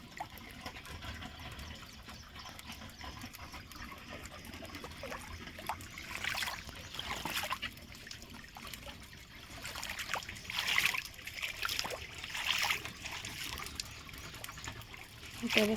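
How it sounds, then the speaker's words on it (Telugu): Rainwater drains off a terrace through an outlet with its mesh removed, a faint, steady trickle and gurgle with occasional louder splashy bursts, heard alone and fairly distant throughout. "అక్కడ అవుట్లెట్ దగ్గర జాలి తీసేస్తే వాటర్ ఇప్పుడు ఫాస్ట్గా కిందికి పోతుంది"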